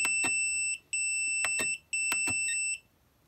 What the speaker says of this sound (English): See how annoying that beep is?